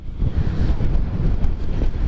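On a motorcycle ride through Malico, San Nicolas, strong gusts pound the microphone with a steady, heavy, low roar for the whole brief moment.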